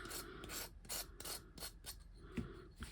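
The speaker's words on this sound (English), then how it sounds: "Now I'm going to sand this surface because I've got a little bit of an edge to take off." Hand sanding an edge off a cured Eco Pour resin piece, a faint close rhythmic rasping of repeated strokes with short pauses between them and no talk.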